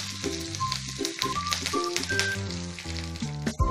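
Dried red chilli and curry leaves spitting in hot tempering oil for onion chutney, a crisp crackling sizzle heard under music with clear tones, short and close.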